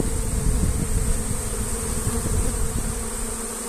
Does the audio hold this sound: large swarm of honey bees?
yes